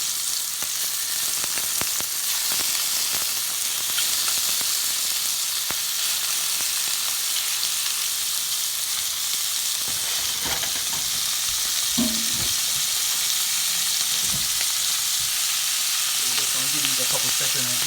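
Shrimp sizzling in hot oil in a pot for curry, a constant bright crackling hiss with occasional clinks and pops near the end, no voices.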